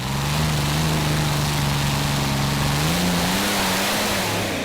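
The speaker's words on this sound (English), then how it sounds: "this is Ashley Middleton with his tractor Black Gold" Ashley Middleton's pulling tractor Black Gold, competing in a 2.5-ton class tractor pull at Brande, Denmark, roars in a loud, sustained rev with a steady low drone that rises slightly in pitch near the end, close and continuous.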